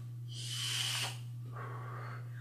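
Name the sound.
inhaling a hit from a vape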